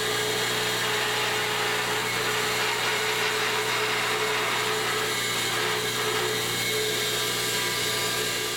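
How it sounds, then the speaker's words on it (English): A bandsaw cuts a traced wooden shelf piece, giving a steady, continuous high-pitched whine with a constant motor hum, close and unbroken for the whole stretch. "So I'll cut that out with the bandsaw"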